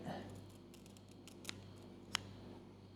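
Sanitized scissors cut through a Phalaenopsis orchid leaf during crown rot treatment: two faint, sharp snips a little apart in a quiet room.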